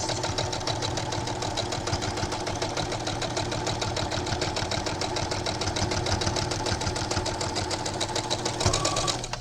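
A sewing machine runs a long, loose basting stitch across knit fabric for a towel topper, whirring steadily and continuously near the mic without pause, with a brief click near the end.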